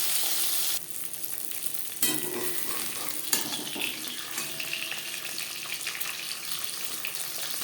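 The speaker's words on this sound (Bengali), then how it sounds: "পাবদা মাছ ছোটে সাবধানে ভাজতে হবে।" Small pabda fish fry in refined oil with a bright, steady sizzle close by. The level drops and jumps as the pan is handled, broken by a few sharp clinks and scrapes.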